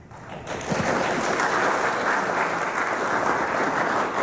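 An audience at a Democratic Party (DFL) candidate forum applauds the introduction of a co-moderator, a sustained burst of many hands clapping that swells after a brief lead-in and holds steady.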